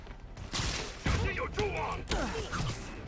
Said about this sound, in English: I'm going to use the web bomb then.